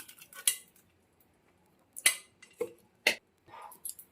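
A metal spoon clinks and scrapes against a pot and bowl as boiled black lentil dal is ladled out. Close, sharp, scattered taps come in short bursts with quiet gaps between them, and no one talks.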